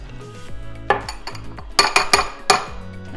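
Spoon scraping and clinking against a bowl while avocado mayo and garlic spread are mixed, a few irregular loud chinks and soft scrapes, close up with no voices.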